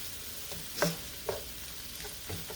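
Chopped vegetables sweat in a hot pan with a soft, steady sizzle, broken by a few quiet clinks and scrapes of stirring, close and fairly low in level.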